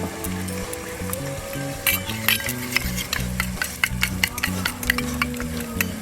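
Sauces, including tomato sauce, get stirred together in a sizzling pan for an octopus dish, with a steady fry hiss and scattered light clinks of the utensil against the metal.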